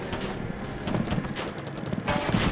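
Rapid bursts of anti-aircraft gunfire in the video game Warplane Inc. pop and rattle continuously over a dense rumbling backdrop, fairly loud and unbroken throughout.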